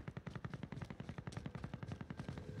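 Rapid bursts of gunfire in the video game Warzone, dense automatic rattling in a fast steady rhythm, fairly close and continuous.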